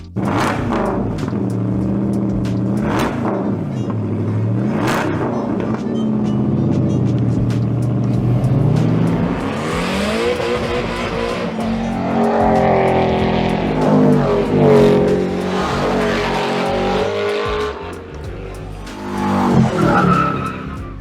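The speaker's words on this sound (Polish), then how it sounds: "to jest Aston Martin Signet V8 czyli najbardziej szalony projekt Aston Martina" Aston Martin Cygnet city car fitted with a 4.7-litre V8, driven hard: loud engine revs rising and falling, tire squeal and skidding through repeated runs, close and continuous for about twenty seconds.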